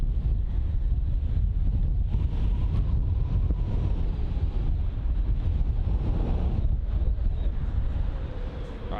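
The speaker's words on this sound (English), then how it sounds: "The wind from that 787 is wild." Strong 45 mph wind at London Heathrow airport during departures, roaring steadily and loudly into the microphone as a continuous buffeting rush with low rumble throughout, easing slightly at the very end.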